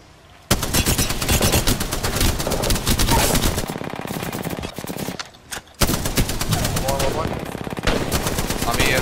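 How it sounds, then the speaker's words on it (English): Rapid automatic gunfire in the Apex Legends battle royale game, loud sustained bursts of close firing with brief pauses, mixed with game action and some talk underneath. "they're gonna start shooting"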